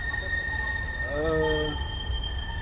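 A tram running through an underground passage, a steady rumbling roar with high whining tones and a brief rising squeal from the wheels midway, no talk.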